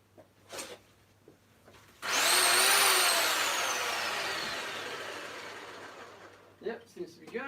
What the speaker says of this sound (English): I gotta check the saw, if the saw's working